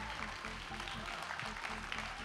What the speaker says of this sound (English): can we just give one more real quick round of applause for your winners?